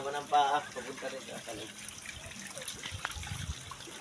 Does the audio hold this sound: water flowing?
yes